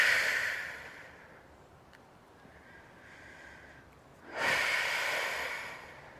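Breathing during a Pilates reformer exercise, a soft exhale at the start and a stronger audible breath out a few seconds later, close and quiet with no talking.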